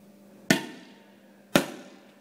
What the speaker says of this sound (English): I'm going to demonstrate to you just how strong these motorhomes are with this hammer and this roof